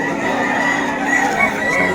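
Chickens and roosters cluck and call at a crowded pet market, a dense, continuous flock chorus at moderate distance with no single bird standing out.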